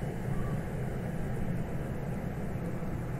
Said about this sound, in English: Plane in the field.